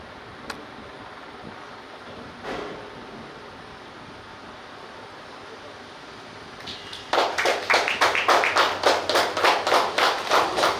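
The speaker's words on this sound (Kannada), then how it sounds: "ಕೈ ಚಪ್ಪಾಳೆಯನ್ನು ಕೊಡೋಣ" A quiet hall at a Teachers Day celebration by Rechal Charitable Trust in Thokottu, with a few stray taps, then an audience bursts into loud rhythmic clapping in unison, about a dozen evenly spaced beats.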